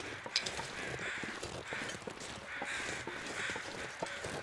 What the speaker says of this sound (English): I can hear a lot of crows,